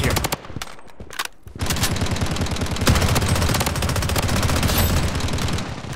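Gunfire in the shooter game Project BloodStrike: loud, rapid automatic bursts and overlapping shots that briefly thin out, then hammer on almost without pause, close and dense.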